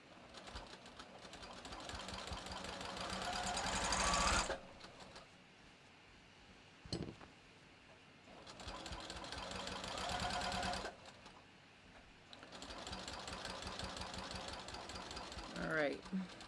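A sewing machine hems the sleeves of a bathrobe, whirring in three long steady runs of several seconds each, separated by quiet pauses, up close.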